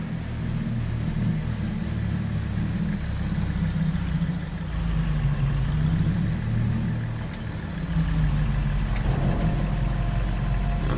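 Vehicle engine idling in Farming Simulator 22 on the Zielonka central European map, a steady low mechanical hum that holds evenly for the whole stretch with a slight dip midway.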